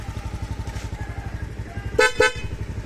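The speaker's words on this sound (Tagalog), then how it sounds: "quality pa ang busina" A Honda Beat motorcycle engine idles with a steady chugging pulse, then its horn gives two quick, loud honks close by.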